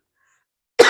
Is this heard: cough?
yes